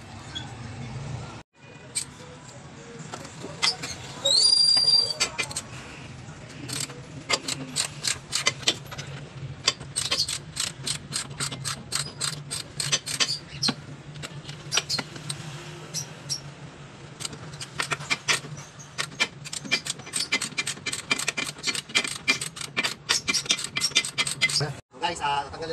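Hand tools at work fitting a car suspension arm, with scattered metallic clinks, rapid ratchet clicks and clattering bursts coming close up throughout, and a voice talking at times.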